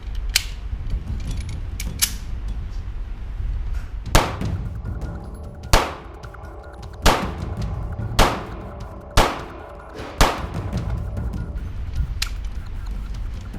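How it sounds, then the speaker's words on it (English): Ruger LCP II compact pistol fired in quick pairs outdoors, with six sharp, loud gunshots spaced across the span, mostly about a second apart, each with a brief ringing decay. "So let's see how we do with double taps again."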